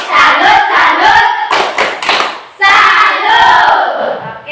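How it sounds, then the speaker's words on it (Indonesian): Students in a school classroom give a rhythmic clapping cheer, loud close hand claps in patterned bursts mixed with children's voices shouting in unison, with brief pauses between groups of claps. "Tepuk tangan dulu buat Mei."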